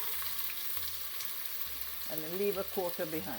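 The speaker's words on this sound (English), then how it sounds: "as soon as the oil gets hot, you put 3/4 of the onions in the oil" Onions fry in hot oil for a cottage pie, a continuous close sizzle running throughout while someone talks over it in the second half.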